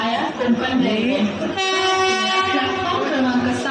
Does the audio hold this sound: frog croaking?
no